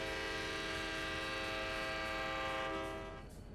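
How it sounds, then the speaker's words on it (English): A cab car horn in Trainz Simulator 2 sounds one long, loud, sustained multi-tone blast that fades out near the end, with no talking. "Yep, that's the horn."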